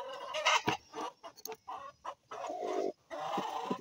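Hens on a backyard farm plot clucking loudly after laying eggs, a near, agitated burst of repeated squawks and cackles with brief pauses, alone without talk.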